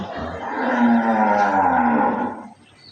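A dairy cow on a modern farm gives one long, loud, close moo that swells and then trails off, with no talking over it.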